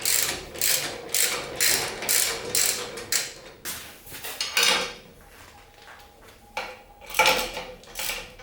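Tools working on a nut on a Yamaha Tenere 700 motorcycle during a spark plug change, with a flat screwdriver holding the nut, producing loud, close ratcheting and metallic clicking in repeated bursts, followed by a few scattered clinks.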